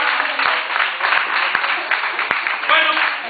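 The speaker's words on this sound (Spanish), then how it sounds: "Un pot aplaudir per ella." Audience applauding a volunteer at a children's magic show at Magic Park Caldea in Escaldes, Andorra; a dense, steady wash of clapping fills the room for a few seconds, with a few sharper individual claps standing out.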